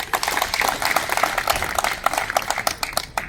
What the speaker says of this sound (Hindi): इसके लिए इन लोगों को एक बहुत बड़ी ताली से स्वागत करें आप लोग